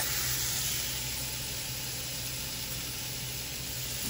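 Onion frying in a pan with a teaspoon of garlic mix gives a steady, dense sizzle that stays even and close throughout, with no speech.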